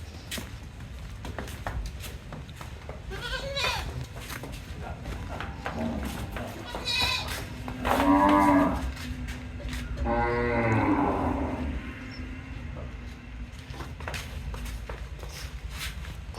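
Several Gir cross cows moo in long, drawn-out calls inside a cow shed, some close and loud, amid shed background noise and scattered clatter.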